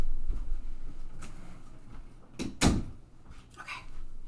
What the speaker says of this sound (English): So I'm gonna close my bedroom.